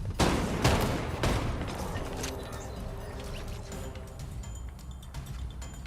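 A few sharp video game gunshots crack near the start, then the firing fades into quieter scattered pops and background noise.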